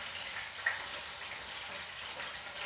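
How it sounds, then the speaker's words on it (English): Chicken pieces frying in hot oil in a home kitchen pan, giving a continuous even sizzle with one brief louder pop. "Chicken like to fry on one side and you keep frying."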